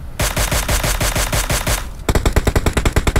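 Rapid automatic gunfire in PUBG Mobile on the Miramar map, two loud close bursts of evenly spaced shots back to back, the second sharper and slightly faster.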